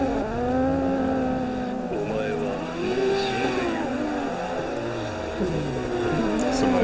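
Several cars drift in tandem in Assetto Corsa, engines revving and wailing with shifting pitch in a steady, continuous roar, tire squeal mixed in, under faint voices.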